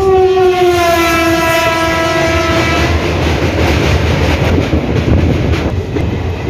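The Tata–Danapur Express passes close by, opening with a long loud horn blast that fades into steady rolling clatter of the coaches over the rails, with no talk.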